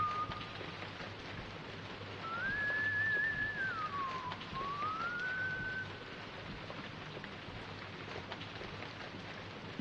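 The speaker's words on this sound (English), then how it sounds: "The rain is kind of deafening where I'm at." Heavy rain pours steadily through the horror game White Day, a dense, even hiss that stays loud from start to finish, with a faint whistling tone rising and falling through the middle.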